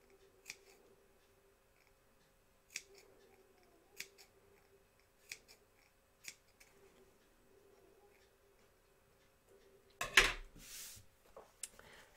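Scissors make a series of sparse, quiet snips into a towel toward the stitch line, followed by a louder burst of fabric handling and rustling near the end.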